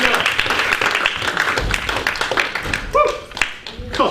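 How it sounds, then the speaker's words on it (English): An audience in a classroom or lecture setting gives a round of applause, loud close clapping that thins out toward the end as a voice begins speaking. "Round of applause for Cindy and Anna as well."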